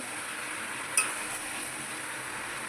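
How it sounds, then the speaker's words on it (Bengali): A spoon stirs chicken curry with fried potatoes in a pan, giving a steady close sizzling hiss broken once by a single light metallic clink. "এবার একটু নেড়ে নেবো এটাকে মাংসটা নেড়ে নিয়ে"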